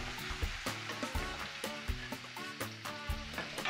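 Onion and smoked salmon saute in a pan, a quiet sizzle punctuated by rhythmic spatula scrapes and stirs, about two per second.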